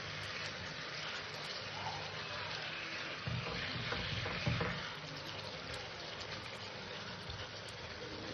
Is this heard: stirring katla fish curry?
yes